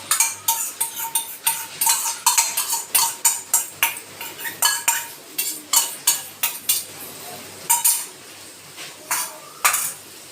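Whisked sour yogurt is added to chicken cooking oil-free in a pot, with a spoon scraping and clinking against the metal in a steady, repeated stirring rhythm, close and fairly loud.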